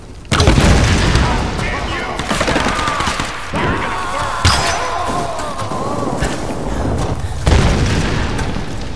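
A loud rocket blast from the game Tomb Raider booms out near the start, followed by crashing debris, further heavy impacts and another explosion near the end, all over dense game noise and shouted voices.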